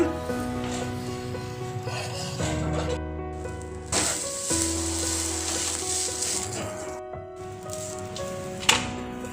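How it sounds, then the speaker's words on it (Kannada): Pumpkin uttapam sizzling steadily in a pan as its other side cooks, a continuous frying hiss with some clatter and a brief louder knock near the end. "ಈಗ ಇನ್ನೊಂದು ಬದಿಯಲ್ಲೂ ಬೇಯಿಸ್ಕೊಳ್ಳೋಣ"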